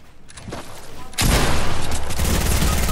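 Gunfire in a shooter video game starts with scattered shots, then breaks into a loud, dense volley of rapid bursts that keeps going to the end.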